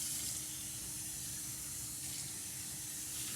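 Tap water runs steadily into an emesis basin being rinsed at a sink, a continuous close splashing hiss with no talking.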